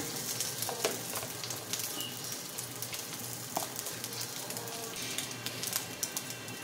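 Rice frying with spicy sausage in a pan, a steady soft sizzle with scattered crackles and the scrape of stirring, close by and with no talk.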